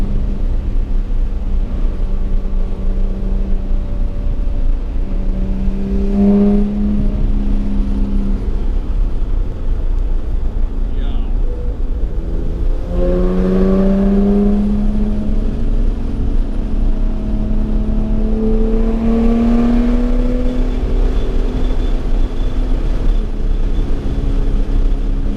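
A Porsche GT3 on a winding mountain road drones steadily from inside the cabin, its engine note sweeping upward in several distinct accelerations as it downshifts.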